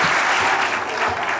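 Applause from a children's show audience at a stage magic performance, steady dense clapping filling the whole short stretch at a fairly loud level, with no talk over it.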